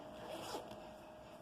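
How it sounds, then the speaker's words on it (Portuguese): A zipper closing on a newly sewn flared skirt gives one quick, faint zip at close range in a quiet room. "E a gente já pode fechar o zíper para ver como ficou."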